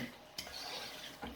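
A spoon scrapes and clinks against a pot while beef tongue in sauce, thinned with a little hot water, is stirred, two brief metallic knocks standing out over a soft, close stirring hiss.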